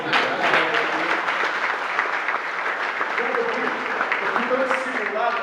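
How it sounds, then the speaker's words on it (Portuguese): A convention audience applauds a deputy with broad, steady clapping that fills the whole stretch. Voices and cheering mix into the clapping. "então salve de palmas do deputado aqui"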